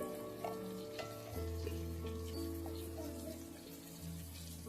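Ginger garlic paste sizzling in hot oil in a pan, a steady, soft frying hiss with faint stirring clinks and a low hum underneath, fairly quiet and with no talking.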